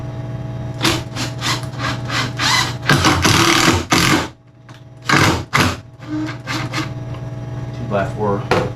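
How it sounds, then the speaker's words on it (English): A power drill drives screws from the backside through plywood into a 2x4 during a DIY solar install, close and loud, in a series of short whirring bursts separated by brief pauses. "Then I'm going to put some screws in from the backside."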